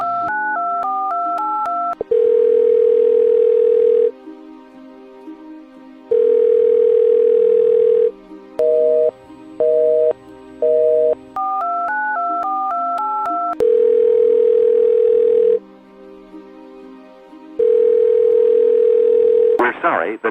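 A telephone line gives DTMF keypad beeps between steady dial-tone and ringback bursts, repeating in a clear on-off pattern that sounds close and distinct.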